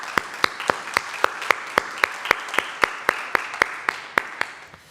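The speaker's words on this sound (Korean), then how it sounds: "그렇게 해주신 하나님께 영광의 박수를 한번 올려드리기 소망합니다." A church congregation claps in unison during a New Year's Eve worship service, a steady, evenly spaced beat of sharp hand claps over a soft wash of scattered applause.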